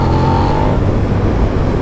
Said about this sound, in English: This is one of those bikes you got to give a lot of engine for it to wheelie.